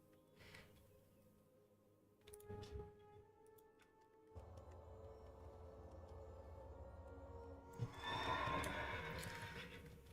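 A horse mount in WoW Classic whinnies loudly near the end of the clip, after quieter game sounds and hoof clip-clops, with no talking.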